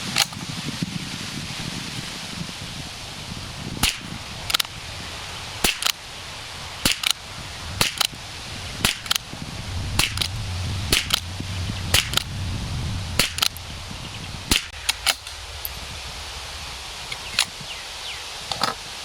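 A rimfire rifle fires CCI standard velocity ammunition: about fifteen sharp, loud shots spaced a second or so apart over a steady fan-like background hum outdoors.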